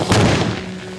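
An explosion from a handgun's gas test, a single close booming thud at the start that quickly fades into a low rumbling decay.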